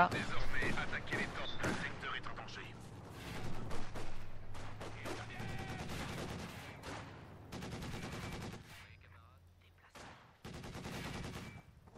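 A DShK heavy machine gun fires in the Company of Heroes 2 strategy game, with repeated loud bursts of rapid shots and brief pauses between them, while someone talks over the gunfire.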